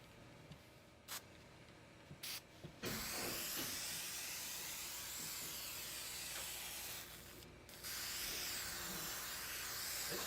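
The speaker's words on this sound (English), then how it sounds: "It sprays alright." Faint short bursts from a spray can come first, then long continuous hisses as a coating is sprayed onto a guitar case, with a brief pause before the spraying resumes.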